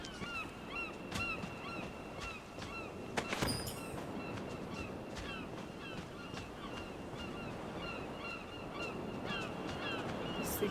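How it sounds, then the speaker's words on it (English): Seagulls in the video game Dragon's Dogma: Dark Arisen call again and again in loud, repeated squawks and yelps over a steady ambient wash like surf, with one brief sharp burst partway through. "These seagulls are loud as fuck."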